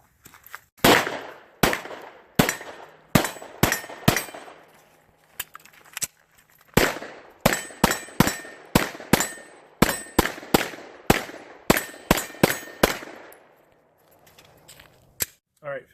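A Hudson H9 pistol fires fifteen rounds in a quick series of loud, sharp reports with short pauses between groups, then falls quiet.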